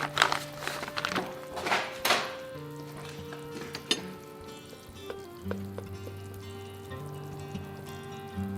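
California Red Pitch melts and sizzles with a soft frying crackle, broken by a few sharp clinks and bumps, while a steady hum runs underneath.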